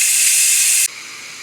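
Steam hisses loudly and steadily from the pressure release of a Ninja Foodi pressure cooker, then drops abruptly to a quieter hiss near the end.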